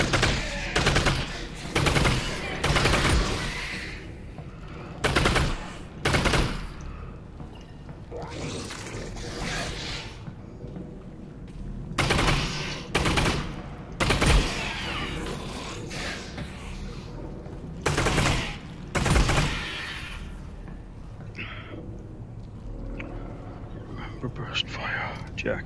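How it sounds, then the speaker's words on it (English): Burst-fire gunshots in the Half-Life video game ring out in loud, close clusters, repeating irregularly through the whole stretch with quieter gaps between them, while a person talks softly underneath. "Burst fire."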